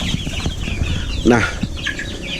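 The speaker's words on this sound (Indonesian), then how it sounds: "Dan ini adalah ayam putih yang variasinya berbeda." White chicken of a different variety from KUB village chickens, clucking in a short burst near the middle, close by, with a person talking quietly in the background.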